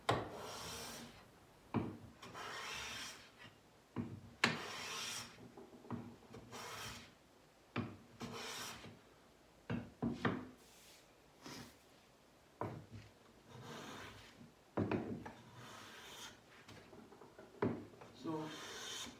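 A No. 6 hand plane takes fine cuts on wood: repeated rasping strokes, each a second or two long, separated by short quiet gaps, close and moderately loud.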